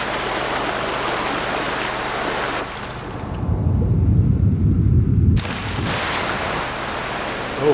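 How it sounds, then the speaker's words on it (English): A broad rushing roar of a waterfall in Lost Ember fills the clip, loud and steady, swelling heavier midway as the view plunges down, then settling back to a constant wash of falling water. "Going down the waterfall."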